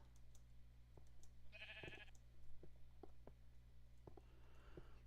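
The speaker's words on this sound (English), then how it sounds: "I hear that sheep." Minecraft sheep bleating in the game: one short bleat near the start of the clip, over a steady electronic hum and faint clicking like keys.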